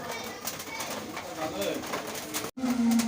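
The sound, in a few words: doves cooing at a pigeon market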